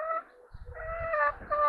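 Rescued ex-battery hens cluck and murmur close by, with a drawn-out, wavering call over a soft low rumble of background noise.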